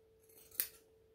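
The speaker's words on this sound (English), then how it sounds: "And snip, and then we're going to get some scissors" Scissors make a single crisp snip through fabric during a sewing project, close and brief, set against a faint steady hum.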